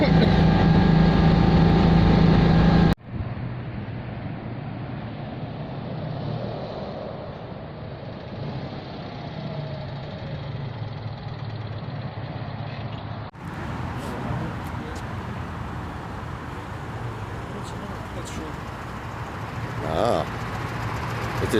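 A Citroën 2CV driving on the A74 with a cold engine, a steady droning engine and road rumble heard from inside the car, with a loud burst at the start and occupants talking over the noise.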